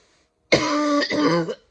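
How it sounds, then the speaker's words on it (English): A single harsh, raspy cough-like burst with a brief catch in the middle, loud and close, heard alone without talk. "So, excuse all my coughing."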